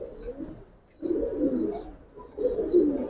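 Giribaz pigeons coo close by in three soft, throaty bursts at an even rhythm.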